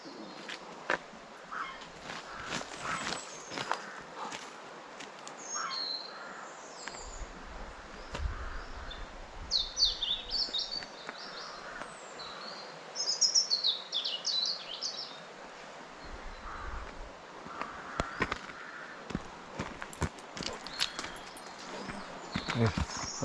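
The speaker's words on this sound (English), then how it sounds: "you can hear all the birds tweeting away" Birds chirp and trill in woodland on a quiet walk through the trees, with clear song bursts in the middle over soft crunching footsteps and occasional rustling nearby.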